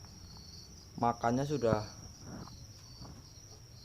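Crickets bred in a box lined with dried banana leaves chirp as a steady faint high trill under a man's short spoken remark.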